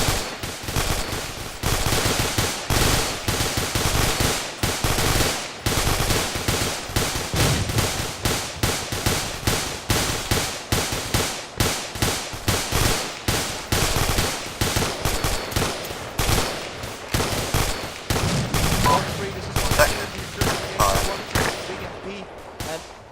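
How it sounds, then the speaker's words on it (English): Sustained rapid suppressive gunfire in a military video game, dense bursts of close, loud automatic shots that rattle on for over twenty seconds with only brief gaps. "Section, suppressive fire front, heavy suppressive fire front"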